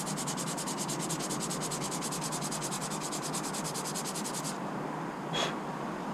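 A brake pad is sanded by hand with steady, rapid back-and-forth rasping strokes, close and continuous. The strokes stop near the end, and one short scrape follows. No one speaks.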